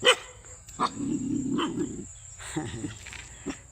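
A dog barks in a few sharp, separate bursts at moderate distance, with a steady insect or cricket drone running underneath through the quiet outdoor scene.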